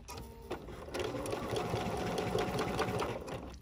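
A sewing machine runs steadily at close range, stitching small butterfly feelers on a fat-quarter fabric butterfly basket, a continuous whirring hum with a brief pause near the start.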